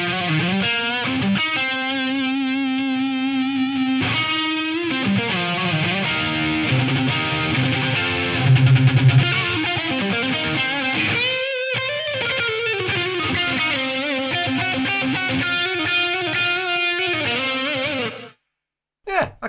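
Distorted electric guitar run through a Digitech DSP128 rack delay-reverb program, sustained chords and notes with long smeared echo tails ringing for most of the stretch before cutting off near the end.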